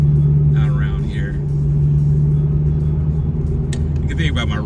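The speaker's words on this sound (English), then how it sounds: "The good thing about my red car is it's so freaking loud" A loud red New Edge Ford Mustang drives along back-country roads at night, its steady low engine rumble droning continuously throughout, with a brief sharp click partway through.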